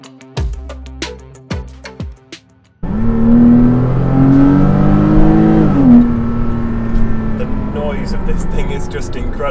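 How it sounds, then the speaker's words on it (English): Heard from inside the cabin, a Porsche Cayman S 987 engine revs hard after a few clicks and knocks, climbing and dropping through gears in a loud sustained rasp that keeps droning to the end. "I like to put it in manual for when I'm doing sort of drives like this. Really build up the revs."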